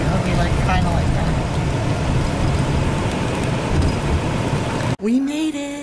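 Pouring rain outdoors hisses steadily and loudly close by, a dense continuous wash with faint passing traffic underneath, before cutting off abruptly near the end to a quieter space with a brief voice.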